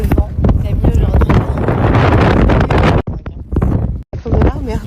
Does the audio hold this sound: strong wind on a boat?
yes